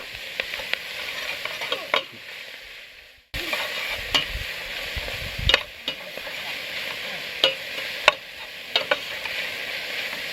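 Spinach being stirred in a pan over a campfire, with a steady soft sizzle and repeated sharp scraping and clinking of the utensil against the pan. The sound is close up, and no one speaks.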